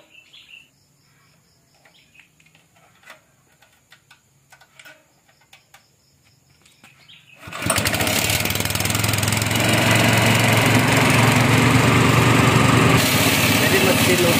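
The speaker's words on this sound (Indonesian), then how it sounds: "Jadi mesin untuk menggiling kompos ini itu tenaganya harus kencang." Quiet outdoor ambience with crickets and occasional taps gives way to a compost grinder's engine, pull-started by rope, roaring to life and running steadily for several seconds.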